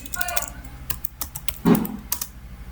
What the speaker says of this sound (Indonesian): kita ketikkan ipconfig